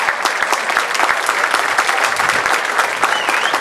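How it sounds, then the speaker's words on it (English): A crowd at a corporate league cricket match in Goa bursts into loud, steady applause and cheering, dense clapping filling the whole few seconds with no break. "Loud cheer from the crowd."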